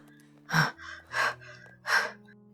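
Three sharp, breathy gasps in quick succession, close and loud, with softer inhales between them; no talking.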